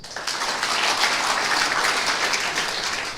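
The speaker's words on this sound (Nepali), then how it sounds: "सबैजनाले 5 ताली रिदममा बजाएर धन्यवाद भन्नुहोस्" Audience applause in a Nepali positive-thinking talk, a dense sustained burst of clapping that fills the whole moment at steady loudness, with no distinct five-beat rhythm standing out.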